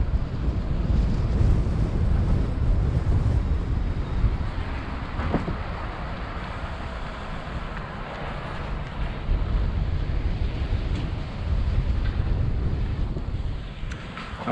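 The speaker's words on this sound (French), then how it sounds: "il y a beaucoup de vent aujourd'hui" Strong gusty wind buffeting the microphone outdoors while riding a Niu MQi GT 50 electric scooter, a loud rumbling roar that swells and eases over time without speech.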